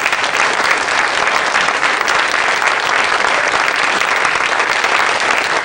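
A conference audience in Chicago claps in a dense, continuous wash of applause, loud and sustained from start to finish, with no single voice standing out.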